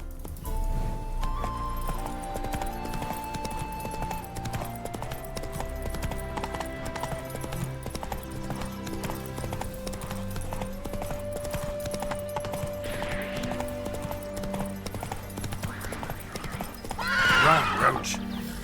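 Roach the horse in the Witcher 3 video game, steady clip-clop of hooves with occasional neighing, layered over game music and a voice, ending with a louder whinny near the end.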